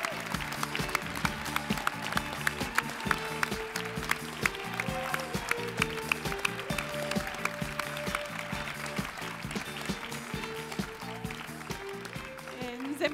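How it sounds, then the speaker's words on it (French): An audience at a local Cégeps en Spectacle student talent final at Cégep de Sainte-Foy applauds the performers with sustained clapping, while pitched music plays loudly underneath. "on pourrait donner une belle main d'applaudissement à tous nos artistes"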